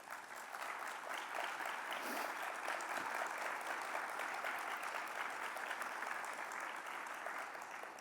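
Sustained audience applause from a large seated crowd at a national faculty business meeting, dense steady clapping filling the room for about eight seconds without letting up.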